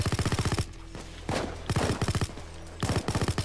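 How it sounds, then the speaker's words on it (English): Light machine gun fire in the Payday 2 video game comes in rapid sustained bursts, tight rhythmic shots broken by short pauses, loud and close with no talking. "Neighbors must have heard gunshots."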